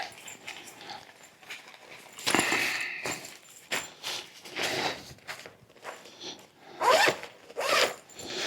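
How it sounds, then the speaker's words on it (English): The zipper of a fabric packing cube is pulled in several short rasping strokes with pauses between them, close and fairly loud, mixed with soft rustling of the fabric. "Got to be careful with these zippers because they do get caught."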